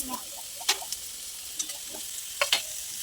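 Fried bitter gourd being stirred in a pan with turmeric and salt, with a soft steady sizzle and a few sharp clicks of the spoon against the pan, fairly quiet and close.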